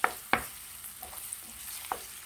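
Eggs and onions frying in a pan, stirred and spread apart with a utensil: a few sharp scraping clicks over a quiet, steady background sizzle, no talking.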